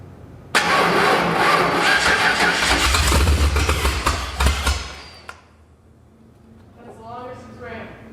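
A 1989 Ford F150 engine after a fuel injection upgrade cranks and catches, running loudly and roughly for several seconds before dying away, followed by quiet talking.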